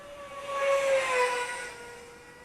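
Freewing F-86 Sabre 64mm EDF RC jet flying overhead, a steady high-pitched ducted-fan whine with a rising and falling broadband rush as it passes, loudest mid-pass then easing away.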